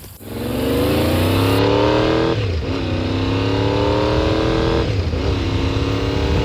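A car engine running at low RPM while driving around a neighborhood after an ignition fix, a steady close drone that shifts in pitch between gears without breaking up under light throttle.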